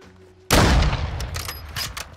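A single loud, close gunshot in Modern Warfare 2 erupts after a moment of quiet, followed by a reverberant tail and a few faint clicks.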